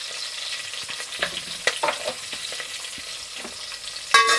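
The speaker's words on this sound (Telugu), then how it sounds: "లైట్గా ఫ్రై అయిపోతున్నాయి" Chopped ingredients, with curry leaves going in, fry lightly in a pan, giving a steady close sizzle broken by scrapes and clicks of stirring, and a sharper burst of spitting near the end.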